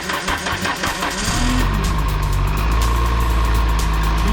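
A 1980s turbo hot hatch barn find, sitting unused for ten years with a suspected fuel pump fault, cranks briefly and then catches, settling into a loud, steady idle close by after fuel is added to the carburetor.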